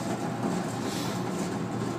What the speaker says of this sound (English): It's the exhaust system for the Chinese restaurant downstairs.